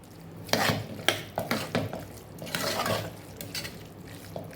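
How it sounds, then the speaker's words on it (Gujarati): Green coriander being stirred into a Kathiyawadi cabbage and potato curry, with bursts of spoon scraping and clinking against the pan over a faint sizzle, fairly close and with no talking. "તો થોડા લીલા ધાણા આપણે મિક્સ કરી દઈશું."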